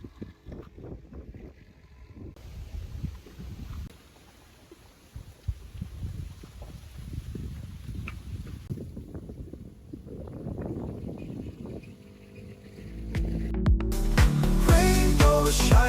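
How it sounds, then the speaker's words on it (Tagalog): Strong wind buffets the microphone outdoors in a national park, with fluctuating gusts and rumbling noise throughout, growing louder and harsher toward the end. "malakas na hangin dito"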